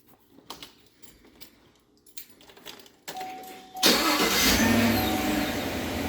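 A car engine cranks and starts after a starter repair, quiet fumbling and clicks followed by a sudden loud catch that settles into a steady close idle, with no talk over it.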